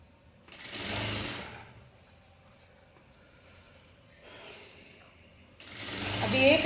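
A sewing machine stitching a blouse whirs in two short bursts, one near the start and one at the end, with a quiet stretch between. Faint handling noise fills the gap.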